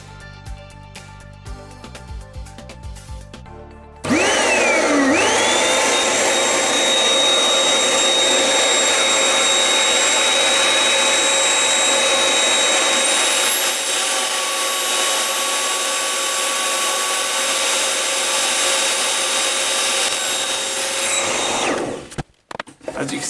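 A Lumber Jack PR14/PR12 plunge router with a quarter-inch bit switches on and cuts wood, a loud steady high-pitched whine that rises briefly as it spins up, holds for about seventeen seconds, then stops abruptly.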